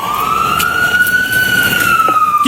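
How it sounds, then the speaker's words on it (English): A loud wailing police car siren holds a long, slowly sweeping high tone over rumbling road noise, close by, with no talking. "Get that fucking siren off"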